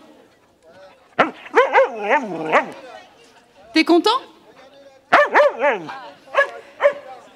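A dog at a film festival's blue-carpet event gives a few short, yelping vocal bursts in separate clusters, heard close and mixed with people talking nearby.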